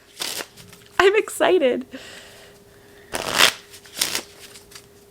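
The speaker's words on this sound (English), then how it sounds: "let's shuffle the cards and draw for book number 1" A deck of playing cards shuffled in quick riffling bursts, three short crisp rattles spread across the moment, close and clear, with a brief spoken remark between them.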